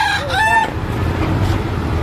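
A rooster crows loudly and close by at a new public market, a single drawn-out call over a low, busy background rumble.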